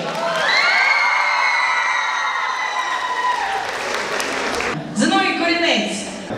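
Sustained applause from an audience with some cheering, a voice speaking over it, then a brief break before clapping resumes near the end.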